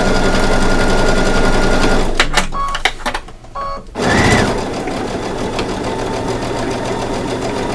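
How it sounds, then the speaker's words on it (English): A sewing machine stitches a leather pillow seam, a steady close mechanical whir that breaks off briefly near the middle with a few clicks and a short squeal, then runs on continuously. "And I'm trying to sew straight."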